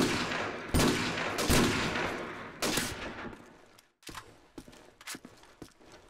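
Video game gunfire in a one-on-one match: loud rapid bursts and single shots, heavy at first, then thinning into scattered sharp cracks after a brief lull.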